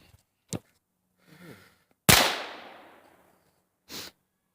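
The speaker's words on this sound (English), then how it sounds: "You shot really quick" Gunshots outdoors, one sharp crack followed by a louder blast that echoes and decays over about a second, then a later shorter burst, with faint breathing noises between.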